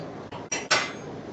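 A knife cuts through a dessert pizza at a Fast Fired by Carbone pizzeria, giving two short scraping, clinking strokes close by with no talking.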